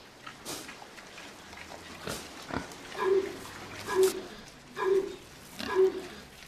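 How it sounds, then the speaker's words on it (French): A pig with a cold coughs on an organic farm, four hoarse barks about a second apart, fairly close and on their own, after some faint shuffling and knocks. "On entend tousser un cochon."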